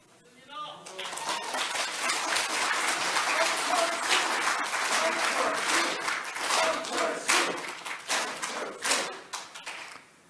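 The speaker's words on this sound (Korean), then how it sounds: "너무 빨리 박수 치셔서요." Sustained applause from a large crowd at a political rally, loud and steady for several seconds before thinning out into scattered claps.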